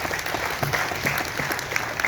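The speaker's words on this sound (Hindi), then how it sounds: "हाथ ताली दे के, हाथ उठा के नहीं, हाथ ताली दे के दे दो।" An audience at an Adivasi religious gathering in Asansol, West Bengal, applauds in a steady, dense wash of clapping that holds at an even level throughout.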